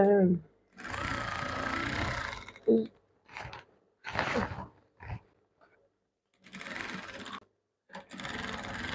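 A sewing machine stitches palazzo pants in bursts: several whirring runs of a few seconds each, separated by short clicks and quiet gaps, with a voice talking at the start and between runs.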